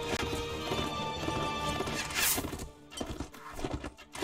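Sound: horse galloping and neighing in Mount & Blade: Warband video game

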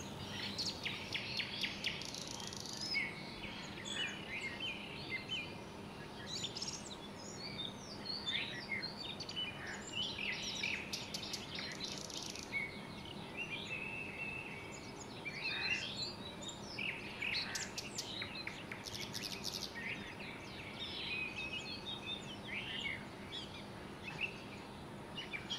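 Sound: birds singing in trees

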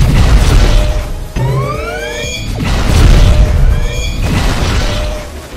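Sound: shooting and explosions in GTA 5 video game

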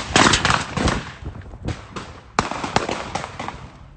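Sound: gunshots going off on an Instagram live video

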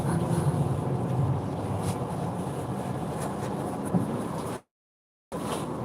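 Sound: storm wind

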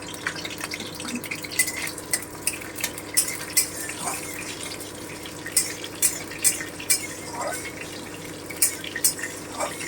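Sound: nigella seeds and green chillies frying in hot oil

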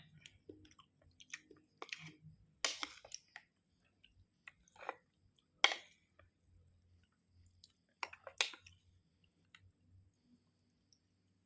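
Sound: eating khanom jeen noodles with green curry

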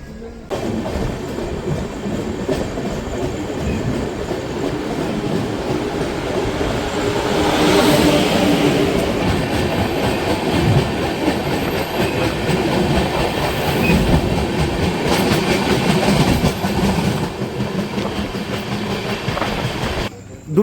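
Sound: passenger train running on rails

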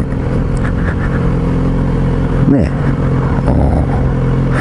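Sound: Kawasaki Z900RS motorcycle engine through short exhaust

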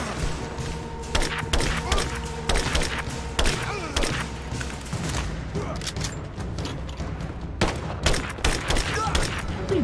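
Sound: gunfire in video game Rise of the Tomb Raider

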